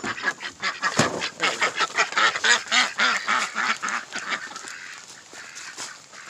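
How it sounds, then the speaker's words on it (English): Ducks near a backyard beekeeping area quack loudly in a rapid, overlapping series of honking calls close by, tapering off toward the end. "And these ducks are kind of loud."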